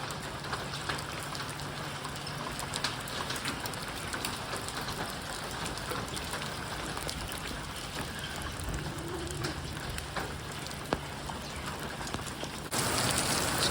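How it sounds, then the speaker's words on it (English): Hail pelting down steadily outside a garage during a sudden storm, a dense, continuous patter of strikes with occasional sharper hits, loud and close with no talking. "Out here working along in the garage, and all of a sudden a hailstorm."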